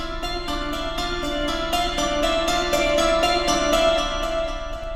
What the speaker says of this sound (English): And then I have this harpsichord sounding thing.